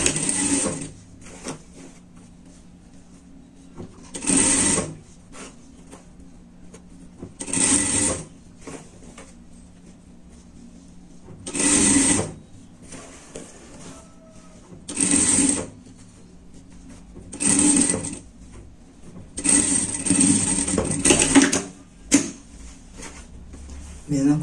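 A sewing machine stitches a safety seam joining the cuff to the sleeve of a lined teddy-fleece pet jacket, in repeated short bursts of whirring between pauses, with a person talking throughout.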